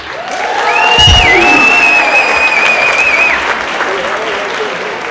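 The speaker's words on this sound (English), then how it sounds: "Drivers, make some noise." Drivers in the audience at a company monthly celebration break into loud applause and cheering, a sustained crowd roar with whoops and a whistle rising over it, close and full throughout.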